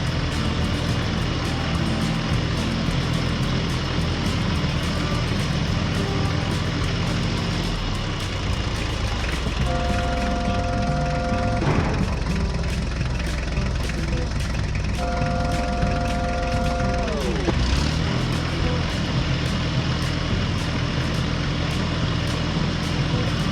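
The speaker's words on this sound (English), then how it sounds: "the tractor slowly drove over the newly paved road" A tractor engine rumbles steadily at close range on a gravel road with no one speaking, and a couple of brief higher tonal whines rise and fall over the drone partway through.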